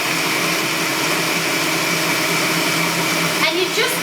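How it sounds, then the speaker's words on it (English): A food processor running on low speed while blending basil pesto, a steady whirring motor drone held close and unbroken, with a voice speaking over it. "I am going to turn the food processor on just to a low speed on 2"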